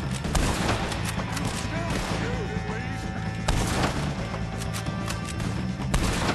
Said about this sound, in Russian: Сейчас я подстрелю их.